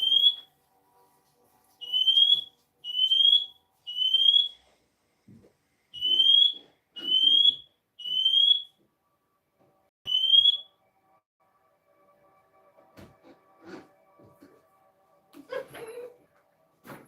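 Smoke alarm set off by incense, sounding eight loud shrill beeps in a fairly regular series, followed by quieter scattered clatter and handling noises.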